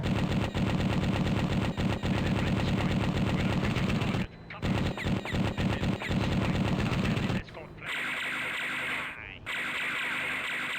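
Rapid machine gun bursts and other weapon fire in the DOS flight combat game Air Power, dense and loud, with brief pauses and a shift to a thinner mechanical tone near the end.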